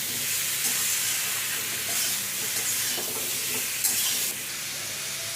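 Chilli powder gets stirred into a pumpkin and potato curry in a hot pan, giving continuous close sizzling and scraping with soft stirring rustles and no talk.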